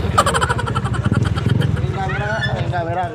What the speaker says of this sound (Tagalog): Ang git-git naman ang motor nila, par.